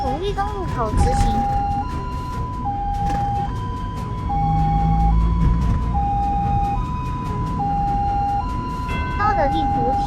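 An ambulance siren in early morning rush-hour traffic wails in a steady two-tone hi-lo pattern, loud and close, over the rumble of road traffic, with a brief navigation voice prompt at the start and end.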